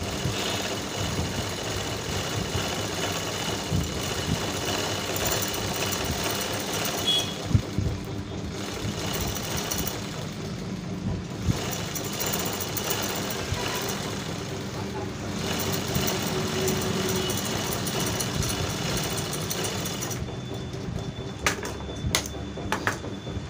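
Sewing machine running steadily while stitching the edge of a safari suit, a continuous whirring drone lasting throughout with brief pauses, heard close up.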